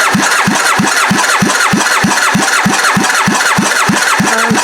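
An engine cranks over steadily on the starter during a compression test, a fast, even chugging rhythm of roughly three strokes per second, loud and close with no voices.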